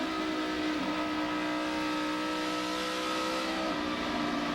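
A NASCAR stock car engine roars at full throttle during practice at Kansas, heard on board as a loud, sustained high-pitched drone with steady harmonics and no break.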